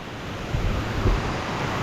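Rushing water at Nan Tak Pha waterfall in the forest of Thung Song, a steady broad roar with a couple of brief louder surges, heard close and without talk.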